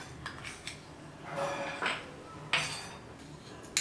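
A metal spoon clinks against a pan as fennel seeds are added over low gas while chivda masala spices are prepared, with a few sharp scrapes and taps near and fairly faint.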